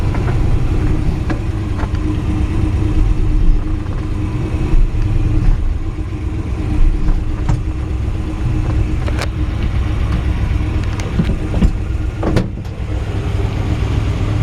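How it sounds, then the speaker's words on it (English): A 1963 Ford F-100 with a 292 engine pulls away, a steady close engine drone with broadband road and cabin noise and a few brief clicks, no talking. "Engine sounds awesome."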